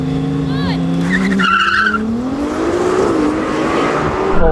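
Lamborghini Temerario and Ferrari 296 launching side by side in a drag race, tires squealing with wheel spin as engines rev and pitch climbs, close and loud, with a voice calling out briefly near the start.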